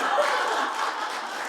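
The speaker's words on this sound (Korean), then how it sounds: "박수 한번 부탁드릴게요." Audience applause at a Korean talk concert, a dense steady wash of clapping filling the whole moment with a light murmur mixed in.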